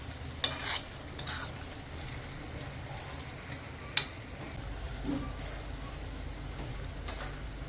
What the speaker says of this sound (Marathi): थोडंसं फिरून घेऊया त्याला अजून मिक्स करून घेऊया